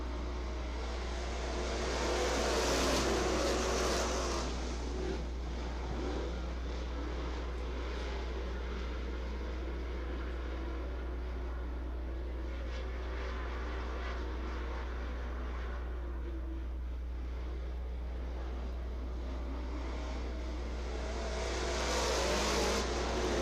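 Street Stock race cars at Ocala Speedway give off a continuous loud engine roar that swells as the pack passes near the start and again at the end, softening to a steady drone in between.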